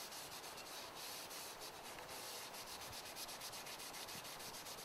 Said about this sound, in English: then you just take it and rub it a few times